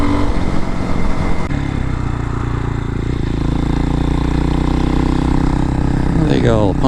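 A 2023 Hawk-X 250 motorcycle pulls up a hill in fifth, its top gear, its engine a loud, steady, close drone running unbroken throughout.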